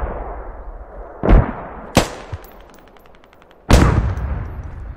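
Machine gun firing in the Squad game: loud, sharp reports, one short rattling burst and then a heavy final blast, each with a decaying echo over quiet background.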